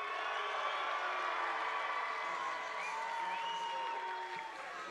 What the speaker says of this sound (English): Mixed reaction there from the crowd, eh?